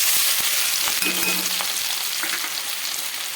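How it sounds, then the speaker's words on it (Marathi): Finely chopped onions fry in hot oil, a loud steady close sizzle that runs through the whole stretch with faint stirring scrapes underneath. "कांदा एकदम बारीक कापलेला आहे तर हा आपल्याला गरम तेलामध्ये घालायचा आहे"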